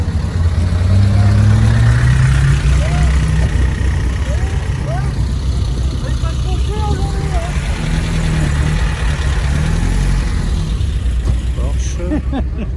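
A Porsche idles at an outdoor car show, its low steady engine rumble continuous throughout while a person talks nearby over it.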